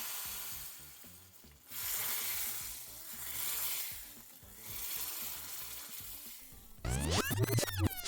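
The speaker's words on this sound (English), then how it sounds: "pour this hot oil in the dal which is cooking here" Hot tadka oil with chili powder poured into a pot of cooking dal, giving a loud, crackling sizzle that surges in waves and ends in a burst of sharp spattering.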